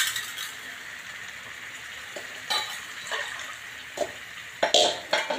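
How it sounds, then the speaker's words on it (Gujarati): Urad dal drops into a pan of hot ghee, oil and roasted spices, bringing bursts of crackling sizzle and a few clattering spoon knocks over a soft, steady frying hiss. "હવે આપણે નાખવાની છે દાળ."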